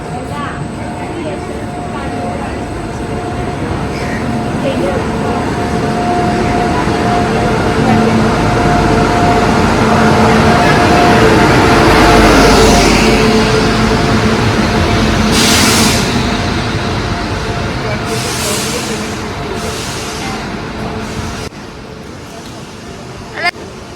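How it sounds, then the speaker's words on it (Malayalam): A train arriving rumbles closer, its low roar swelling to a peak and then easing as it passes by slowly, with a few brief horn or brake sounds. "ട്രെയിൻ വരുന്നുണ്ട്."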